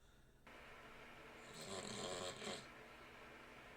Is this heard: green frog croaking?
no